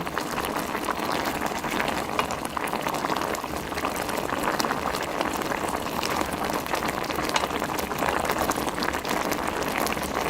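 Dried pollock and radish braise simmers in a pot over high heat, a dense continuous bubbling and sizzling crackle, close and steady throughout with no one speaking.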